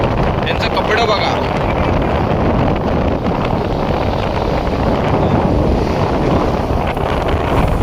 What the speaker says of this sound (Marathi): हवा बघा किती आहे, हवा बघा किती आहे.